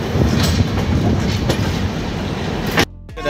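Sealdah–New Delhi Rajdhani Express (12313) rumbling along, heard from inside an AC 2 tier coach: a loud, steady roar with faint clickety-clack, ending abruptly in near silence.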